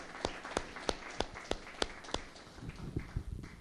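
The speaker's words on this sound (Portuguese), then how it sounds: "Salvo de palmas ao Senhor." A church congregation claps in praise, a series of sharp, evenly spaced claps about every third of a second, moderately close, then a looser, quieter patter of claps.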